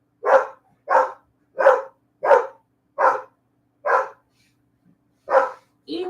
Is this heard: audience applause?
no